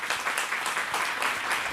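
A church congregation applauds a guest apostle, dense and steady clapping from a crowd in a hall, held for a short moment.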